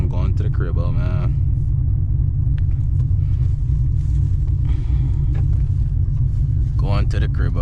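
A cammed Chevrolet Camaro ZL1 cruises through downtown Indianapolis, its steady, loud low engine rumble filling the cabin throughout while someone talks over it.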